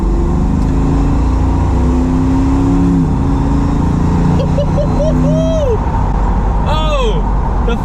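A 470 hp naturally aspirated Range Rover restomod engine drones close by, then its revs climb and sweep up and down in sharp rising bursts near the end.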